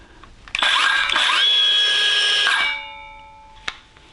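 A Milwaukee M12 Fuel brushless power saw spins up with a high, steady whine, runs for about two seconds close by, then winds down, ending with a small click.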